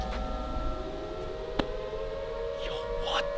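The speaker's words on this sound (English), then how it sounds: "That sounds like an air raid siren." An air raid siren wails steadily through the whole stretch, a droning tone with a rising sweep near the start, while voices and noise sit over it and a brief thump lands partway through.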